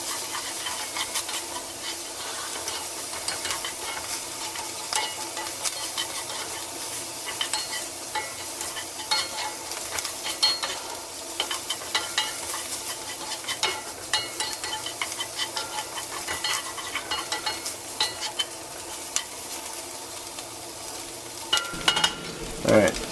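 Sausage frying in a cast iron skillet for biscuits and gravy, a steady crackling sizzle with soft spatter under occasional scraping and stirring, moderately loud and close, with a few clatters of the utensil near the end.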